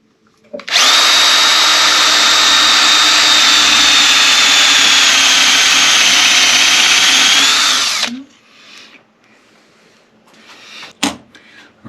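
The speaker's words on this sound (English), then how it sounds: "we'll drill a hole at the center point" A power drill fitted with a Forstner bit bores into the wooden body of a cigar box ukulele, making a loud, steady whine for about seven seconds. It then spins down, and a few faint handling knocks follow.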